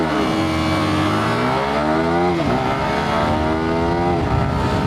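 Yamaha R15 V4 and KTM RC200 motorcycles launch hard in a drag race, their engines revving loudly and climbing through quick gear shifts close by.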